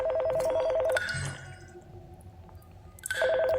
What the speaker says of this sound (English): the phone started ringing again